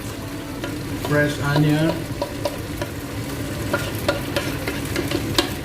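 Kway teow noodles stir-frying with fresh onion in a hot pan, sizzling steadily while a spatula scrapes and clacks in a loose rhythm; a voice speaks briefly over the cooking near the start.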